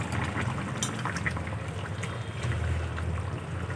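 A pot of cauliflower, potato and fish curry with coriander leaves simmers on a kitchen stove, giving a steady close bubbling and hissing with no talk.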